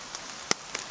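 Rain pattering on a tarp at a wild camp in Snowdonia, a few distinct drops striking close by over a soft, steady hiss, with one sharper louder tap in the middle.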